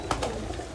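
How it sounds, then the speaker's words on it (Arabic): Pigeons coo softly while feeding, with two short close coos near the start and quieter murmurs after them. "هو ده كل حمام وهو بياكل كده."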